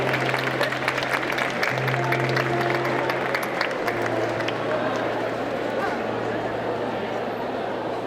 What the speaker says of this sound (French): vous pouvez, oui, tous vous applaudir. Très très fort.